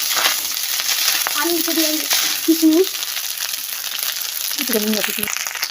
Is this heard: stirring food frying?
yes